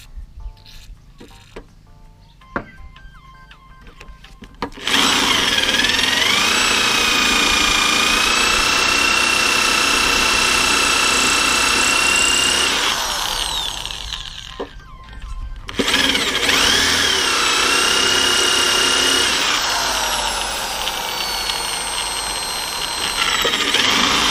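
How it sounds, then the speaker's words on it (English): A power drill whines loudly as it bores through metal bolts on a Rover mower, running in two long sustained stretches separated by a brief pause, close up. "we're drilling through bolts here"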